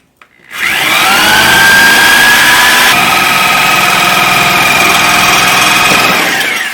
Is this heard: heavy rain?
no